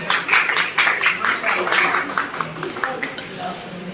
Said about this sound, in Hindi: माशाअल्लाह, तालियां।